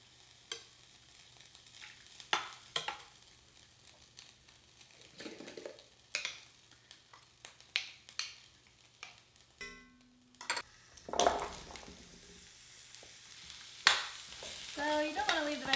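Vegetables searing in beef tallow in a heavy skillet for beef heart stew: a quiet, close sizzle broken by frequent scraping and clinking stirs, with sharper rattles near the end.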